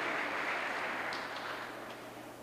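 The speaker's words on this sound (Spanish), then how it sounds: "Denle un aplauso." A church congregation applauds during a sermon, a faint, distant wash of clapping that gradually fades out.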